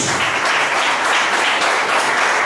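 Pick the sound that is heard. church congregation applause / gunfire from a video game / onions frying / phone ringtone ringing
church congregation applause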